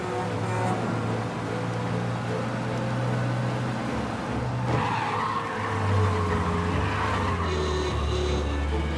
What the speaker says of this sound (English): We lose them by driving real fast and getting clear of them.